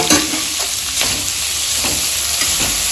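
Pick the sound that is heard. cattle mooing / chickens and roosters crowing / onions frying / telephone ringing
onions frying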